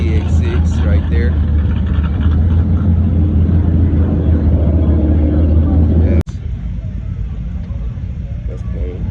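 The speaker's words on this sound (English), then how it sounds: "That's a ZX6 right there." Kawasaki ZX6 sport bike engine at a cars and coffee meet, a steady loud low drone that cuts off abruptly partway, leaving quieter ambient rumble, with people talking over it.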